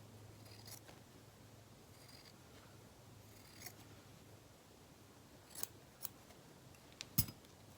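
Fabric being trimmed with scissors during a stitching project, quiet scattered snips with a few sharper cuts toward the end over a faint background hum.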